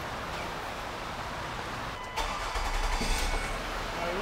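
A 2006 Ford Escape engine, just fitted with a new alternator, cranks and catches about halfway through, then settles into a close, steady running rumble over a constant background hiss.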